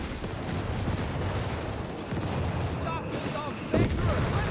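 Gunfire in the Company of Heroes 3 real-time strategy game, a continuous crackle of rifle and machine-gun fire with distant booms underneath, dense and steady across the whole battle scene with a commentator talking over it.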